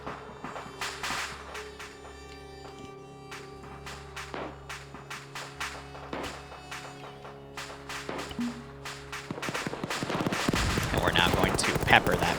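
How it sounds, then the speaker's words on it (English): Mortar and gunfire in a military tactical video game: a steady run of sharp single shots and bursts, with heavier booms mixed in, builds into a dense, loud barrage of fire near the end. "Mortars are firing."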